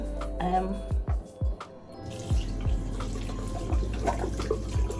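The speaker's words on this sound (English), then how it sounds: "I wet up the spin brush, the head of it" Tap water runs while a spin brush head is wetted at a sink, a steady splashing flow broken by a few hollow knocks and thumps close by, with a low hum underneath.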